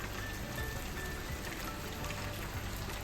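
Rain falls in Manali, a faint, even hiss of drops patting on surfaces, heard from a distance with no voices.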